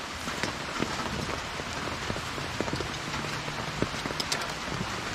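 Steady rain pours down outdoors in Jamaica during outdoor cooking, a dense even patter with scattered sharper drops striking nearby surfaces, constant throughout and alone without talk.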